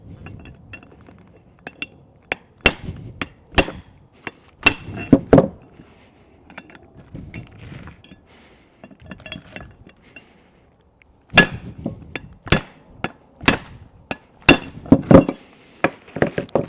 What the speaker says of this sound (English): I'm going to switch to using a brass drift. I'm going to hit the bottom of this guy while he's all expanded